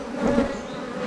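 Honeybees buzz around an opened hive in spring, a dense, continuous droning hum of many insects close by, moderately quiet and steady with slight swells.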